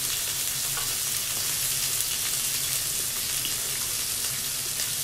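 Meat sizzles and fries steadily with kimchi on a grill at a yakiniku meal, a dense continuous crackle and hiss holding at an even level with no talk.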